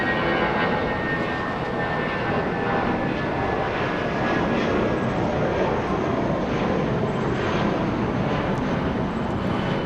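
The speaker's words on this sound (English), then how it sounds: "We have an A319 flying to Bozeman, Montana. United Airlines 2201." A 22-year-old United Airlines Airbus A319 jet at Los Angeles International Airport, a steady broadband engine roar that holds loud and continuous throughout with no speech.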